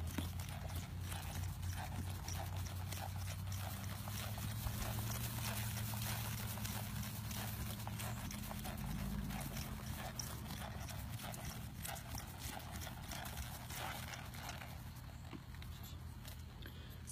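A mare with a cutting-horse background, out for a ride, gives a steady run of hoof clip-clops that continues throughout, close by but faint under a constant low rumble of wind or movement.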